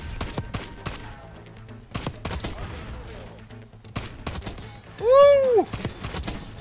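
Rifle gunfire in Black Ops 6 comes as sharp, loud bursts of rapid shots spaced through the moment, with game effects and a bright rising-falling whine near the end.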